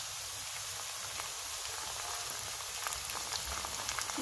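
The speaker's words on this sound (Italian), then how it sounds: "aggiungo in padella i pomodorini" Cherry tomatoes sizzle in a frying pan for a summer vegetable peperonata, a steady soft crackle and hiss with faint popping, moderately quiet and unbroken, with no voices.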